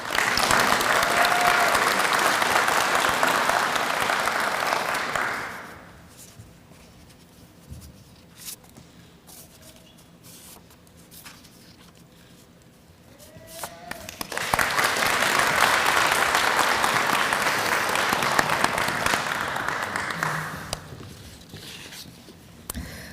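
A crowd at a college education-school pinning ceremony claps in two sustained rounds of applause, dense and fairly loud, separated by a quieter stretch of shuffling, rustling and scattered small noises in the hall.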